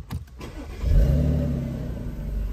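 A modified Audi S5 with an exhaust fitted with valves fires up at the push of the key, a quick starter whir and then a loud, deep engine roar settling into a strong, rumbling idle, close and alone.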